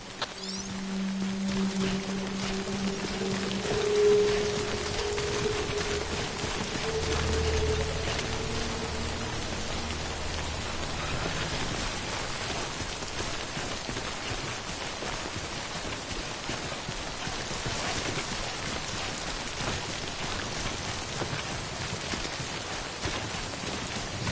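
Steady rain falls in Death Stranding, a constant hiss of drops on surfaces that holds at an even level throughout, with faint tones drifting underneath early on.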